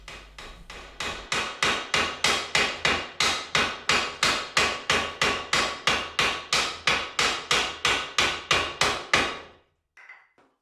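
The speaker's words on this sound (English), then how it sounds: "a block of wood and a mallet and I could get it tapped off" A mallet knocks on a wood block to tap a tight collar off the spindle of a Startrite drill being restored, making about two dozen loud, close, evenly spaced thuds in a steady rhythm.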